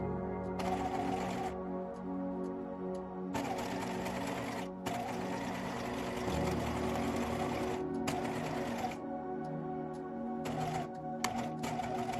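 A home sewing machine edge-stitches around a rectangular welt pocket opening on a pair of shorts, running in rapid bursts with short pauses between them as the work is turned at the corners.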